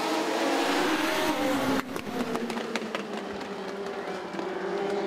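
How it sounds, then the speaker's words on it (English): Legends race cars roar around the short track at Southside Speedway, with engines revving and pulling away at close range, followed by a quick series of sharp mechanical clicks over the lingering motor drone. "we do it the best way we know how with good short track racing here at Southside Speedway"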